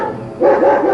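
Dogs guarding a fenced farm refuge bark in a loud, close burst, one sustained run of barking that starts after a brief quieter moment.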